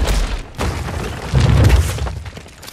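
Tank cannon blasts in the video game Fortnite, heavy booming explosions with deep rumbling tails, one near the start and a louder swell midway, loud and close with no talk.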